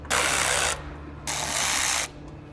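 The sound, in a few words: ratchet removing T15 fender flare bolts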